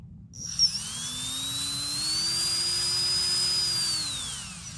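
A small RC drone motor, controlled through a FlySky i6X transmitter, spins up with a rising electric whine as the throttle opens, holds a steady high tone, then begins winding down near the end, heard alone and fairly close.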